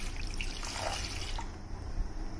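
Water is poured through a strainer onto soaked tamarind, making a continuous close splashing trickle that lasts a couple of seconds.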